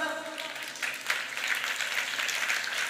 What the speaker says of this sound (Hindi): तालियां किस बात पे बजा रहे हो?